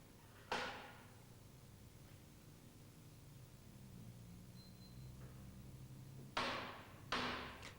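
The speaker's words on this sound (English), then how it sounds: "Tap the bearing case carefully with a plastic hammer" Sharp taps of a plastic hammer on a purifier drive shaft's bearing case ring out against a quiet background: one near the start, then two more close together near the end, each with a short ringing decay.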